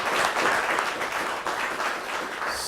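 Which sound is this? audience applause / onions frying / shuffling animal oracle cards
audience applause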